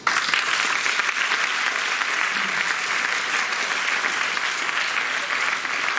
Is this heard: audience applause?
yes